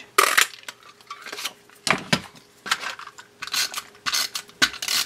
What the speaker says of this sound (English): We're going to cut this one out with the 1 3/4 circle punch.